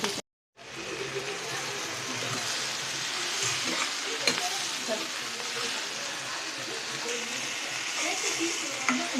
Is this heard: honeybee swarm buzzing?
no